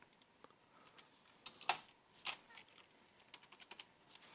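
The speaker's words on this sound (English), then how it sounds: "I'm typing stuff that I shouldn't be typing." Java code being typed on a computer keyboard, quick uneven keystrokes clicking close by, with a few louder key hits standing out.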